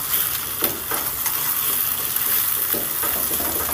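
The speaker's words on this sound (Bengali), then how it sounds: "ডিমটাকে ভালো করে ফেটিয়ে এবার আমি ভেজে নেব" Oil sizzles loudly in a pan while a utensil stirs and scrapes at intervals, a close, busy frying sound of chopped beaten egg frying for egg chow mein.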